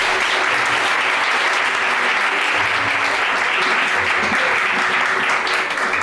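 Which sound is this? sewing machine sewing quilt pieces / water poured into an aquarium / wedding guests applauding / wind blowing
wedding guests applauding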